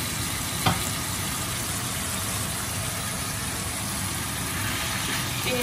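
Continuous broadband sizzle of food frying in a hot pan, steady and fairly loud throughout, with a brief clink near the start.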